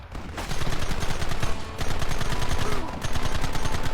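Rapid gunfire in the video game Red Dead Redemption, dense repeated loud shots in bursts with brief pauses between volleys, close and continuous.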